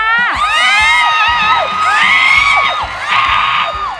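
A crowd screams and cheers in long, high-pitched waves, several voices shrieking together loudly and close, with brief dips between bursts.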